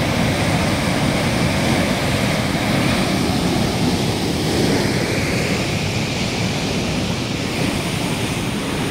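Fast-moving Chambal canal water rushes loudly and continuously near a tunnel entrance, a dense, steady roar like surf with no pauses and no voices.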